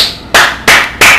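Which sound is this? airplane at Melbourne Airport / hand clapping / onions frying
hand clapping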